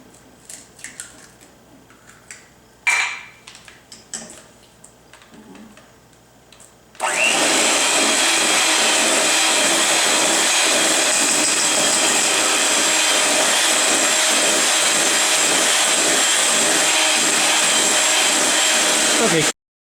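French silk pie batter with eggs getting a long, steady beating with an electric mixer, loud and continuous after a few quiet clatters, whirring without a break for over ten seconds.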